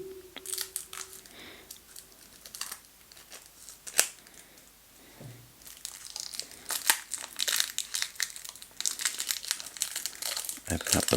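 Crinkling plastic and snips of scissors cutting through the packaging of a trivia box game, with rustling handling noises and a few sharp clicks, close by.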